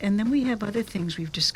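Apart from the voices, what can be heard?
No distinct noise like a dog, phone or traffic.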